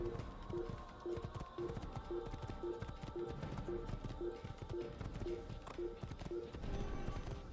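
Rhythmic clip-clop of horse hooves at a steady trot in Assassin's Creed, evenly spaced beats over a faint background bed, with a brief whinny.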